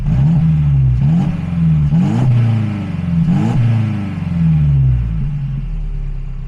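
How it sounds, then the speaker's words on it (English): A 2017 Mercedes SLC300 roadster engine revs close by, three quick throttle blips rising and falling over a deep, rumbling exhaust idle. "put the microphone behind the vehicle, give it a couple revs"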